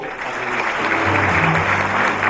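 Steady audience applause at the inauguration ceremony of the 23rd chairman of the Korea Liberation Association, a dense even wash of many clapping hands filling the short stretch at a constant level.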